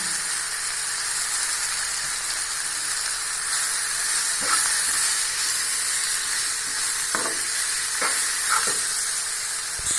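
Noodle masala and mint leaves sauté in a pan, a steady hissing sizzle that runs throughout, with a few soft knocks of a spatula against the pan.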